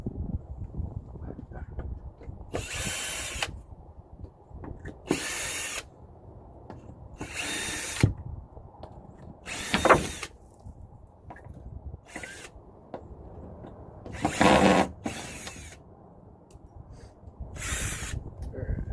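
Power drill with Phillips bits driving screws into boards in repeated short bursts of whirring, about eight loud buzzes separated by quiet gaps, close by with no talk over them.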